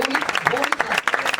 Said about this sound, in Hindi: आप तालियां बजाना शुरू करें।